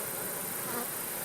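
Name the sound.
honeybees buzzing around a hive box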